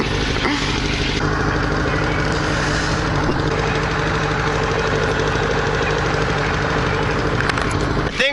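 A motorcycle engine with no air box runs steadily at idle, a loud, rumbling, slightly knocking mid-pitched drone that holds for several seconds close to the microphone.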